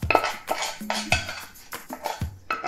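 Cooked apples going into a cookie mixture in a bowl, with a quick run of clinks and scrapes from a spoon against the dish, close and fairly loud, with no voice.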